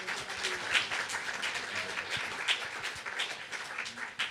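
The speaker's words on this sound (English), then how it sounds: "Can we give them a round of applause again?" An audience at a keynote event on AI gives a dense, sustained round of applause. Many hands clap steadily throughout with no voice on top.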